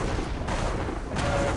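A lightning gun fires continuously in the arena shooter Quake Live, a dense, harsh electric buzzing crackle that fills the whole short burst at steady loudness.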